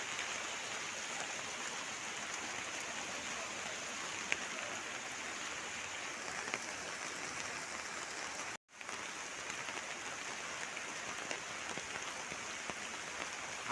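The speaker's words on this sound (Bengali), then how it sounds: "আপনারা দেখুন কীভাবে বৃষ্টি পড়ছে।" Heavy rain pours steadily at a riverside ghat on the Barak river, a dense, constant hiss close by with one brief dropout midway and no talking.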